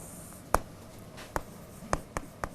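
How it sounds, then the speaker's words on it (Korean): Pen writing by hand while drawing a table, with a few sharp distinct strokes and taps spaced irregularly against a quiet background, close and fairly soft. "여기다 한번 이렇게 그려볼게요. 표를."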